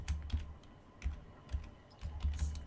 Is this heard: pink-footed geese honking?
no